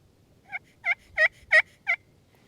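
Five soft, raspy yelps from a brand-new slate pot turkey call, played quietly in an evenly spaced run that peaks on the fourth note, with nothing else heard.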